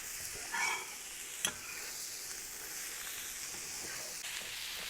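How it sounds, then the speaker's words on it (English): Onions and ginger frying in a pan for a chicken korma, a soft, even sizzle and hiss heard close up with a couple of brief clinks and stirring sounds, no talking. "And then the onions and the ginger, they go in the pan as well."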